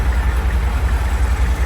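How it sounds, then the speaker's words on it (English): A Humvee diesel engine idling close by, a loud, low, clattering rumble that pulses in quick, even beats with piston knock louder than the exhaust, alone with no talk. "just the engine, like piston noise and everything, and whatever is going on under there is louder than the exhaust"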